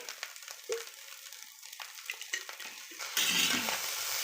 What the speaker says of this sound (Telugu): హైలోనే బాగా మిక్స్ చేసేసుకొని